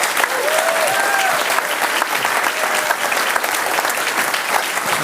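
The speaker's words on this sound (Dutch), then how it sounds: "mag ik een groot applaus?" A large audience at a Dutch political lecture on Europe breaks into a big, sustained round of applause, dense and steady throughout.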